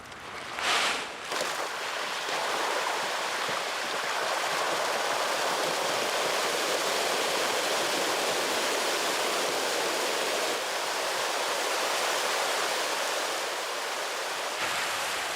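Pangasius catfish churn and splash in a crowded farm pond during morning feeding, a dense, steady roar of thrashing water filling the whole stretch without pause.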